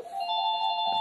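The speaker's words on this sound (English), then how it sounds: "That's the phone. I'm not going to answer it" A telephone rings indoors with a single sustained electronic tone lasting about a second, fairly clear and steady with no talk over it.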